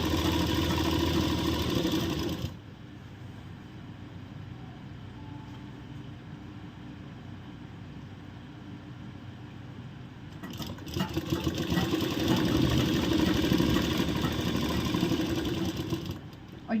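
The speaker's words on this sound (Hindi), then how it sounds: "दोनों हाथों से बिल्कुल बराबर पकड़ते हुए सिलाई लगानी है।" A sewing machine stitches palazzo pant fabric in two runs, a steady, close mechanical whir that stops for several quiet seconds between bursts.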